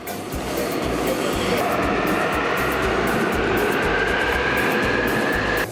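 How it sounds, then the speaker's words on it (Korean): Steady loud rumble and rattle of a Korean subway train departing Bupyeong-gu Office station with passengers, a rising whine building over a constant mechanical roar, no pauses. "열차가 승객들을 태우고 출발합니다"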